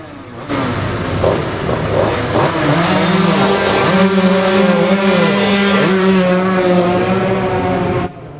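Classic racing motorcycles at the Isle of Man TT, including a lightweight classic Yamaha, roar loudly past with engine notes rising and falling as they shift through gears.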